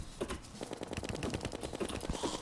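In a Terraria boss fight, a boss fires homing cursed skulls as a rapid, irregular stream of sharp popping bursts, dense and close, with no talk.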